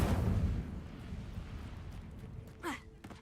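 Incendio fire spell cast in Hogwarts Legacy, a loud roaring burst right at the start that fades into a low rumbling tail, with a short voice sound near the end.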